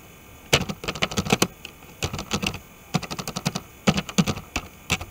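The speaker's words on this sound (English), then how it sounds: "Type now the content of your letter." Fingers typing a letter on a computer keyboard, close and clear, in quick bursts of rapid key clicks separated by short pauses, with no talking.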